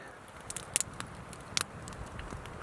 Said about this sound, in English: Fire's crackling.